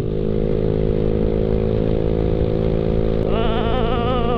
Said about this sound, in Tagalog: Pero kayang-kaya ng ating Yamaha Mio Sporty yan. Ganong kalakas ang ating motor.